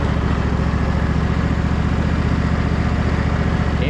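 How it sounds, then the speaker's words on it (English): A Husqvarna riding mower's engine idles steadily and smoothly up close, a continuous low mechanical thrum with a faint regular pulse throughout. "Engine runs super smooth though"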